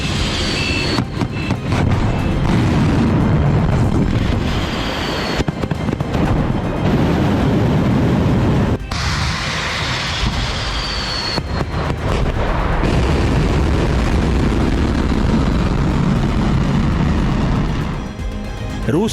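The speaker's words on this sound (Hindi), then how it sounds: "रूस की बैलिस्टिक मिसाइलों का कोहराम।" Explosions from Russian ballistic missile strikes in Ukraine, heard as loud, dense rumbling blasts that follow one another continuously, with sharp bangs and a heavy low roar filling the air.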